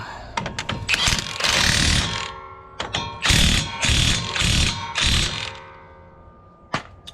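Rapid ratchet clicks in several bursts as a lug nut is tightened on a Dodge Dakota front five-lug conversion, close and loud, with short pauses between runs of clicking.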